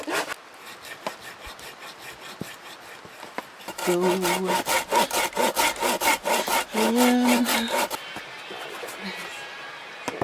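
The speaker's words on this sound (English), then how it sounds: "We got a little more wood to cut" Hand sawing of wood with a small handsaw at a snowy campsite: quiet scraping at first, then a loud burst of rapid rhythmic back-and-forth strokes for about four seconds before it fades to softer rubbing.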